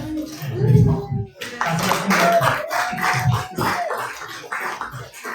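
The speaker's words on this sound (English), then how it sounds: "Can we give another round of applause to all of these projects and candidates?" Applause at a public community meeting, scattered claps and taps mixed with people talking, including a voice, moderately loud and uneven rather than a full ovation.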